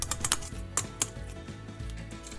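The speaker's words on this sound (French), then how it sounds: "utiliser une paire de ciseaux et tailler dans la masse" Scissors snipping through a mass of glass noodle vermicelli: a quick run of crisp, close clicks, then a couple of separate snips and a softer rustle.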